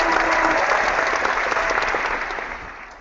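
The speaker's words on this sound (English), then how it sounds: "Let's give them a round of applause." A round of applause from an audience thanking the presenters, loud and dense from the start and tailing off slightly toward the end.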